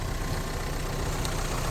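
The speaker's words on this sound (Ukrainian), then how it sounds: "Двигунчик працює ідеально, рівненько" A 2017 Volkswagen Crafter refrigerator van's engine idles steadily, a smooth, even low rumble with no pauses, heard up close and without voices.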